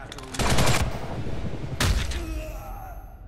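Bursts of gunfire in the online shooter Ghost in the Shell: Stand Alone Complex First Assault Online, a sustained volley early on, then a second sharp shot, fairly close with ambient game noise.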